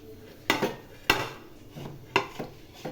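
Ceramic plates and metal cutlery clink and clatter in a home kitchen, with four or five sharp, close knocks at irregular spacing and quiet pauses in between.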